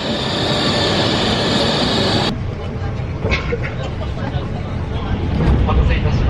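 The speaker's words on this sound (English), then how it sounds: "That's the train." A train near Nikko, Japan rumbles past with steady loud roaring and rattling wheels, a high whine cutting out partway through.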